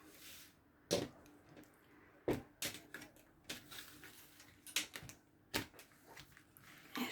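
A deck of oracle cards is cut and shuffled, giving sharp, scattered slaps and clicks at irregular intervals, close and fairly quiet, with soft rustling between them.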